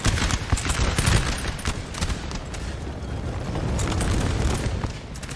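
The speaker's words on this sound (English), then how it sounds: "that fight's obviously more artillery firing from Denmark, setting up in a line" Artillery booms and rolling musket volleys from a Prussian and Danish line battle in Napoleon: Total War, a dense, continuous barrage of thuds and crackling fire with no gaps.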